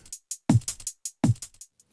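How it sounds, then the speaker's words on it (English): A background drum pattern beneath a Eurorack modular synth setup, playing a steady beat of two deep kick hits with crisp hi-hat-like ticks between them, heard alone. "You can hear these drums"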